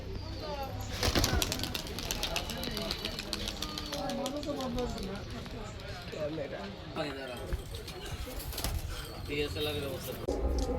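Fancy pigeons of Pakistani show breeds coo continuously nearby in their loft, a throaty rolling murmur repeating throughout, with a voice talking over it at times.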